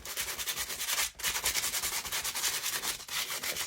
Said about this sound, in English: This sandpaper I got at Dollar General, it's not the best